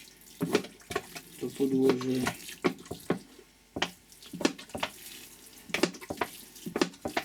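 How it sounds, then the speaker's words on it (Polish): Water splashes and trickles in short irregular bursts onto soil while seed trays of kale, kohlrabi, lettuce and sage are watered, with a few quiet spoken words. "I tu podlewamy wszystkie skrzyneczki, wszystkie pudełeczka."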